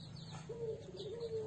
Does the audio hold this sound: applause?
no